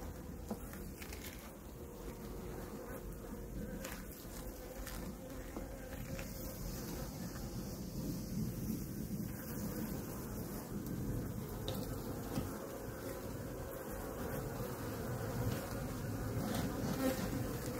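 Honeybee colony buzzing around a beehive: a dense, continuous hum of many bees, steady and fairly close, growing slightly fuller toward the end.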